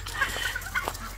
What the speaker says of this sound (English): I want you to see all these ducks and chickens gathering.